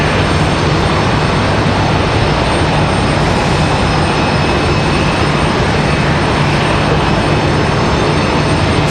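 Jet engines roar loud and steady at Raleigh Durham airport, a dense broad rumble that holds for the whole span with no voices over it.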